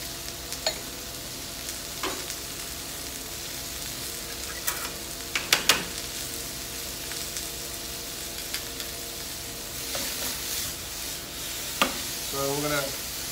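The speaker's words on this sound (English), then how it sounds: "So we're going to saute these up." Tomatoes with Maldon salt and pepper sauté in a hot pan at a fair cooking demo, a steady close sizzle broken by scattered sharp clicks and scrapes of stirring.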